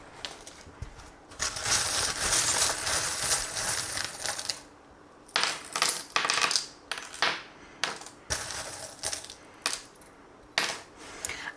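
Small divination charms clatter onto a surface in a run of sharp, bright metallic clinks and jingles, some clustered and some spaced apart, heard close and alone without talk.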